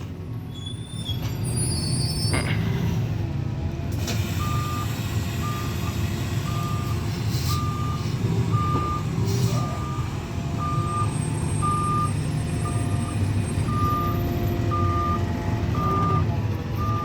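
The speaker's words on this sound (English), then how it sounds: "My truck's back up sound." Reversing beeps from a truck backing up, a steady series of evenly spaced electronic tones over the rumbling engine, with a few clanks and squeals around it.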